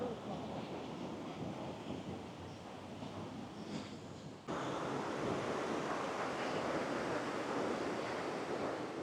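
Surf washing onto busy Kata Beach in Phuket, a continuous broad rush of waves with wind noise on the microphone, steady and fairly faint, with no clear voices.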